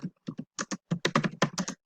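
Keys clacking on a computer keyboard while a heading is entered into a spreadsheet, with irregular bursts of crisp close keystrokes separated by short pauses and no voices.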